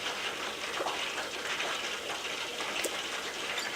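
Liquid pours steadily for several seconds in a continuous soft gushing stream, close and even, with no voices.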